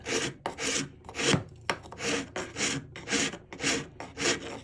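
A wood rasp works back and forth across wood in quick, regular strokes, about ten of them, close and clear with no talking.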